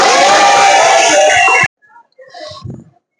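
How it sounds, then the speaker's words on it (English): A class of students breaks into loud, dense applause for about a second and a half before it cuts off abruptly, followed by brief, quieter voices. "Give applause."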